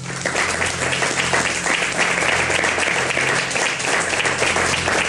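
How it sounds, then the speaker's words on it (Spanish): A talk-show audience gives a steady, dense round of applause bidding farewell to a guest, many hands clapping at an even loudness throughout with a low hum underneath. "Paco, te despedimos con este aplauso."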